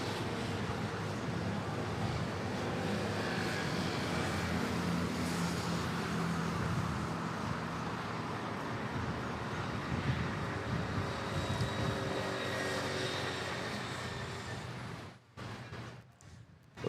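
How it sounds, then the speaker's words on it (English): A Philippine Airlines Airbus A330 jet departs Manila airport, a steady broadband roar of engines holding loud and constant for many seconds before dropping away briefly near the end. "Philippine Airlines A330 off to Davao."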